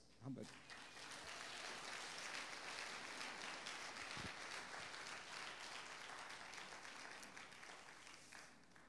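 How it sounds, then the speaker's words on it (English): A church congregation applauds in sustained, dense clapping that holds steady for several seconds, filling the room at close to moderate distance. "So once again, we give God the round of applause."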